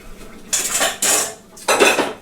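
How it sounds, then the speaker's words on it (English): Dishes, pots and cutlery clatter as they are stacked in a home kitchen after cooking creamy chicken and vegetables, three loud bursts of clinking separated by brief pauses, with no talking. "Dishes get stacked up in the kitchen."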